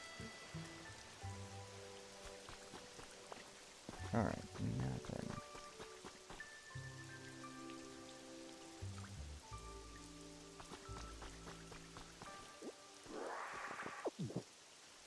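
Rain falling in a Pokémon video game, a steady patter of drops that carries on under game music and sound effects, with someone speaking briefly over it.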